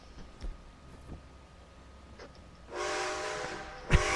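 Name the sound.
train moving in video game Red Dead Online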